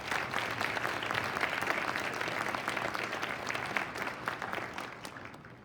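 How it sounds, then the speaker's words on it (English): An audience at the Ohio Fairs Queen Contest 2022 gives the fair committee a full round of applause. The dense, steady clapping lasts about five seconds and then begins to taper off. "So give this committee a big round of applause."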